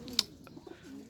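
Pigeon cooing among pigeons kept by a pigeon seller, with one brief louder call near the start and soft low coos around it, close and fairly quiet.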